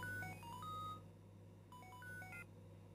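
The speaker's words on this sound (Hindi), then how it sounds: "फोन आ रहा" Phone ringing in Pokemon Black 2: a quiet run of bright electronic chiptune beeps in two short bursts, stepping through a little melodic pattern, with no talking.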